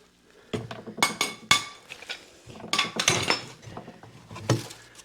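Metal bars from a hive lifter clank and clink as they are unpacked and handled, with several sharp knocks and rattles spaced unevenly and close by.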